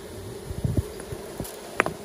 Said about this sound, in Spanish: ¿Alcanzan a percibir el sonido de las abejas?